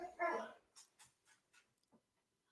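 A dog nearby gives a few short whimpers and yips, spaced out over a couple of seconds after an initial louder burst, fairly faint in a quiet room.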